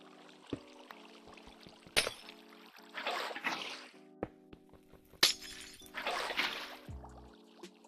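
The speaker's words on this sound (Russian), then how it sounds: "Ломаем тут булыжник и выливаем воду в ступеньку." Minecraft sounds: cobblestone blocks break with sharp cracking hits and a bucket of water is poured into a stair block in two rushing gushes. Faint game music plays steadily underneath.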